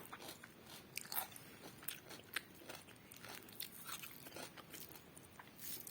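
Close, quiet crunching and chewing of khichuri eaten with raw onion and cucumber, irregular bites and crisp crackles continuing steadily without talk.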